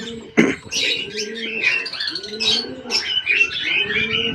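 Pigeons at a morning feeding, cooing and chirping steadily at close range, with a sharp brief sound near the start and no speech.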